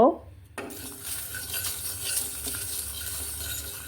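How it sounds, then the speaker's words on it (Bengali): Dried red chillies fry in oil in a pan with a steady low sizzle, close and unbroken after a sharp metallic knock at the start, with faint utensil clinks over it. "আর দিয়েছি কয়েকটা শুকনো লাল মরিচ এখন বেজে নিয়ে শিলপাটায় বেটে নিব"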